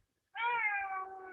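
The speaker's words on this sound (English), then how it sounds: "Quit meowing." A single clear, drawn-out meow from a house cat, close and fairly loud, rising quickly then sliding down over about a second against a quiet background.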